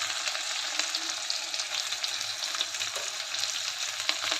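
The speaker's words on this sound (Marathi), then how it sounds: "कढीपत्ता तेलामध्ये घातलं की ते उडतात" Chopped onion and curry leaves fry in hot oil in a pan, giving a steady close sizzle with frequent sharp crackles and spluttering pops throughout. No one speaks.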